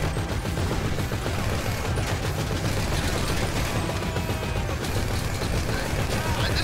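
Sustained gunfire in an animated shoot-out, a continuous rattle of overlapping shots and bursts with no pause, loud and dense throughout, with voices buried in the din.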